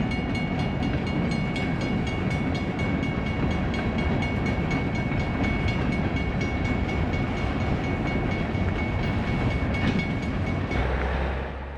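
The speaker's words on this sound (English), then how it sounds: "the train crosses over Highway 82" An Idaho Northern & Pacific Railroad train on the Joseph Branch crosses over Highway 82, its loud continuous rumble and wheel clatter running close and steady before easing off at the very end.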